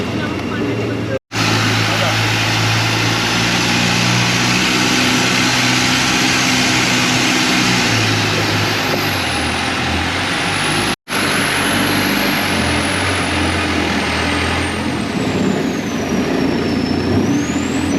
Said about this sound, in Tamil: நம்ம போட்டு மற்ற போட்டு எல்லாத்தையும் ஓவர்டேக் பண்ணிட்டு போயிட்டுருக்குங்க செம்ம ஸ்பீடாக போயிட்டுருக்கிறாரு